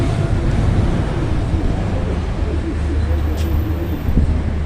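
A Ford New Fiesta 1.6 16v Sigma engine with a suspected mechanical noise fault runs steadily, giving a dense, continuous rumble with a low droning hum throughout.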